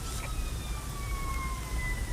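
An ambulance siren in the video game Emergency wails in a slow descending sweep, steady and moderately distant over a low rumbling background.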